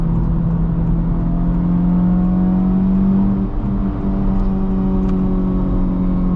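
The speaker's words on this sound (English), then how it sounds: "active fake engine noise, is super annoying though" A 2024 Honda Civic Type R with a 6-speed manual gives a steady synthetic engine hum inside the cabin, a loud droning tone that shifts slightly in pitch as the car cruises.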